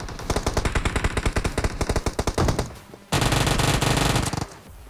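Rapid automatic fire from a Vector submachine gun in Pochinki during a PUBG-style battle royale game, loud close bursts of shots for about three seconds, a brief pause, then a dense sustained stream of gunfire.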